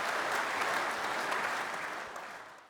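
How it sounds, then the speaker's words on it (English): A short applause sound effect: enthusiastic crowd clapping, dense and fading out toward the end. "That deserves a round of applause."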